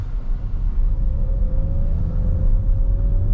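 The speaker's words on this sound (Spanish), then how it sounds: "Vamos a hacer una pequeña aceleración aquí para mostrarles cómo se mueve este modelo" Nissan X-Trail e-Power accelerating in Sport mode, heard from inside the cabin as a steady low road rumble with a faint motor whine rising gradually in pitch.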